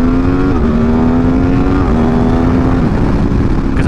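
Loud, steady engine drone from a 2021 Aprilia Tuono V4 Factory motorcycle with quickshifter and auto-blipping, pitch stepping through quick gear changes while riding, dense and continuous throughout.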